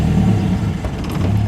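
MGA sports car engine idling steadily up close while gears are worked, a low continuous rumble with a slight dip partway through and no talk.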